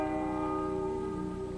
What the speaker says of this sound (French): Il y en a qu'une qui donne des coups de cloche comme ça de temps en temps.